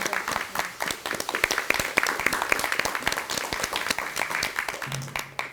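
A crowd applauding at a Justice Party joining ceremony for a former National Assembly member, dense sustained clapping from many hands, loud and continuous, tapering near the end.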